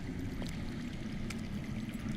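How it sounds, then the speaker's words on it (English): Water flowing underground in the video game Game of Thrones, a steady low rushing murmur that continues throughout with no talk. "I hear water. From underground."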